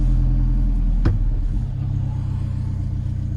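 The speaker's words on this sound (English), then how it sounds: "Yeah, the exhaust sounds good on this car." An Alfa Romeo 4C Launch Edition fitted with a custom exhaust and intake accelerates, its loud, deep exhaust drone rising after a brief shift, with close interior rumble throughout.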